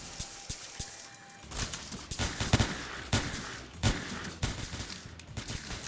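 Rapid bursts of video game gunfire in a shooter, several volleys of shots crackling in clusters with short gaps, fairly close and loud, no talking over them.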